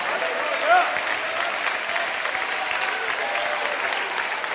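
Congregation at a church service applauding for Jesus, a dense steady wash of many hands clapping throughout, with a voice and a brief tonal sound briefly rising above it.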